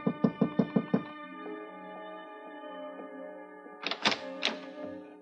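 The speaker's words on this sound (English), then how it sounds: "I knocked on her door" About five quick, firm knocks on a hotel room door, followed by a sustained musical chord and then a few more soft thumps; no one speaks.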